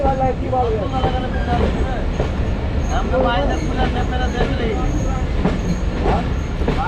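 The Rajshahi Commuter train rolls into Rohanpur railway station with loud, continuous rumbling, clattering wheels and thin metallic squeals throughout.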